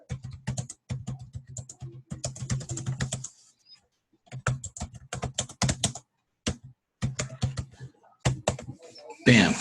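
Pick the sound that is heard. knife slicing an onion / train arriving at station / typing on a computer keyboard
typing on a computer keyboard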